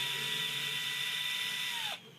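A power tool, likely a cordless driver, spins out screws from a home DVD player being scrapped for e-waste, giving a steady high whine for about two seconds before it winds down and stops.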